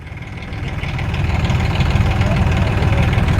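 A Massey Ferguson 7235 tractor engine idles at a dealer demo event, a steady low throbbing rumble close by that grows slightly louder over a few seconds, with faint voices in the background.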